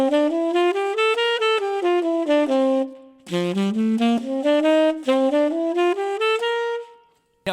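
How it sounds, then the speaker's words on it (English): A saxophone plays a single-line blues chord-scale exercise, running steady stepwise notes up and down through the changes with a short break midway, loud and close with no talking. "did you notice that even though I was playing that on a single line instrument, the saxophone, you knew it was the blues?"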